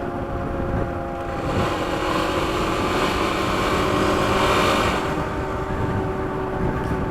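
Dunlop Geomax AT81 off-road knobby tires on a KLX300 motorcycle howl on pavement, a loud continuous whine with tonal bands that swells and eases over the engine's steady roar.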